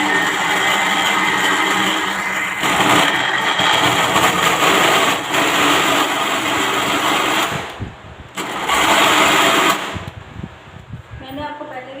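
A mixer grinder grinds ginger and garlic with a little water, a loud, steady motor whine that runs almost the whole time, dipping briefly near the end.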